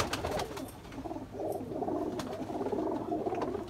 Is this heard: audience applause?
no